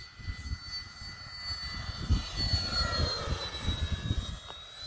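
Freewing A-10 Thunderbolt II RC jet with twin 80mm electric ducted fans flying at half throttle, a steady whining fan roar with a rising and falling tone as it passes, heard from a moderate distance outdoors over light wind rumble.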